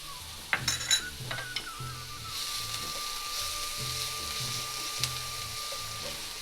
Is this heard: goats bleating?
no